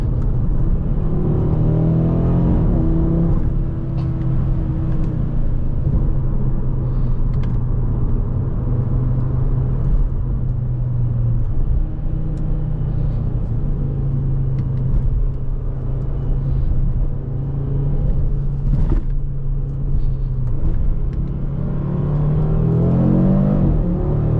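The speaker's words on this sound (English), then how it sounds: "Damn, this thing's a rocket, bro. This thing is a rocket. Spinning all four wheels for a second there." An Audi RS3 accelerates hard on a backroad with all four wheels spinning briefly, its engine a loud, continuous rumbling roar heard from inside the car, with no talking.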